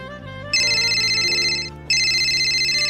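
A phone ringtone sounds while a call to a mother connects, two clear electronic ringing bursts over faint background music.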